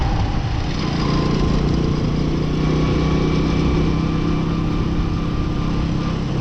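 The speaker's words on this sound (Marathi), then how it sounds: "गाडी बघा, गाडी आवाज कशी माहिती आता इंजिनमधनं." A faulty car engine runs steadily with a loud, continuous rough drone and uneven clatter after a botched timing change, heard close and alone with no talk.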